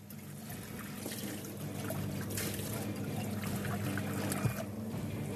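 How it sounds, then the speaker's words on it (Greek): Water trickles steadily into a hot frying pan while cooking with wine, a continuous close pouring and sizzling wash that stays even throughout with no talk. "Θα προσθέσω ελάχιστο νερό."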